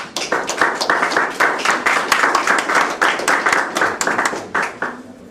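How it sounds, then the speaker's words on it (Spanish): A crowd applauds at an evening book presentation and literary reading, sustained dense clapping from many hands, fairly loud and steady before tapering off at the end, with no talk over it. "Fuerte aplauso para él."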